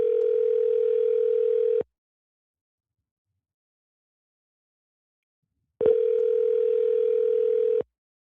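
A telephone line tone sounds while a call is placed during a live show: two loud, steady electronic tone bursts of about two seconds each, separated by four seconds of silence, with no talk.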